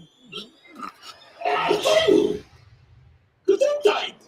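One sharp sneeze bursts out in the middle of a podcast conversation, a short explosive blast with voices talking before and after it.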